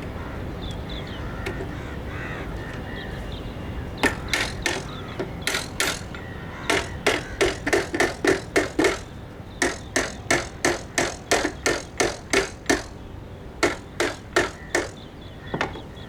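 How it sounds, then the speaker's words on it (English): Baby tricycle being unscrewed with a ratcheting screwdriver or tool: a long run of sharp, regular clicking bursts, close and fairly loud, coming in quick trains with short pauses, no voices. "First unscrew these screws, remove these screws"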